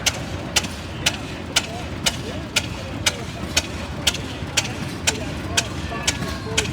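A little 1926 Rumley tractor runs in an equipment parade, its engine firing in slow, evenly spaced sharp beats about twice a second over a rumbling background with faint voices nearby.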